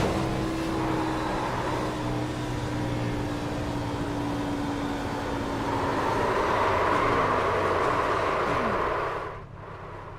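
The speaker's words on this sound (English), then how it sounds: "He is downshifting as he's spinning." A NASCAR Xfinity race car at Kansas engine-brakes through downshifts while spinning, a steady engine drone with falling pitch steps, heard at moderate distance before cutting off abruptly near the end.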